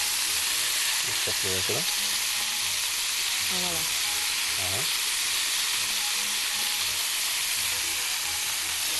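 Shish tawook chicken skewers sizzle steadily on a hot cooking surface as they are turned, a continuous loud frying hiss with a few brief spoken words over it.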